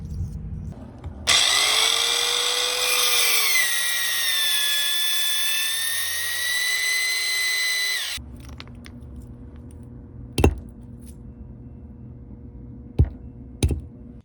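A small SeeSii circular saw whines loudly through a strip of wood clamped to a cart, a high steady motor tone that dips under load, then cuts off, followed by a few sharp knocks.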